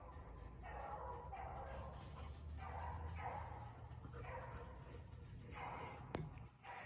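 Beagles bark and bay outdoors while running, a steady string of mid-distance yelps and bow-wows coming in repeated bursts over a constant background hum.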